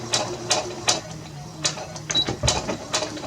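A sewing machine stitches to the end of a folded edge on a fabric hot/cold pack, making a run of short, evenly spaced mechanical clacks, close and fairly loud.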